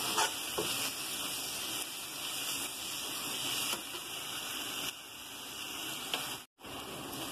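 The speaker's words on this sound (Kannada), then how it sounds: "ಈಗ ಅದು ಸ್ವಲ್ಪ ಹೊತ್ತು ಫ್ರೈ ಆಗಿದ್ರಿ, ಎಣ್ಣೆ ಬಿಡ್ಲಾಕತ್ತದ." Turmeric, chilli, salt and coriander powder masala frying in oil for chavalikayi palya, a steady broadband sizzle with faint stirring clicks, continuous and fairly quiet, with no talk.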